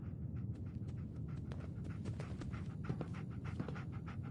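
Dogmeat, the German shepherd companion in Fallout 4, panting close up in quick, steady rhythmic breaths, fairly quiet and alone.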